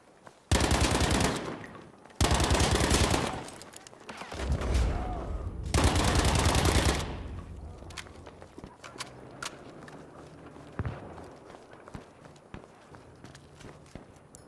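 Enemy machine gun fire in Battlefield V hammers out in three loud, sustained bursts, followed by quieter scattered shots and footsteps.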